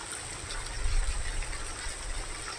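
Hot spring water pumped out and flowing at Crane Hot Springs, a steady broadband rush and trickle with low rumbling underneath, continuous and moderately near with no voices.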